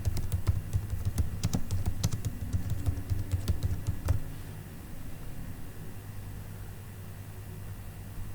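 Close computer keyboard typing for a Google Form: a rapid patter of key clicks for about four seconds, then only a steady low electrical hum, with no speech.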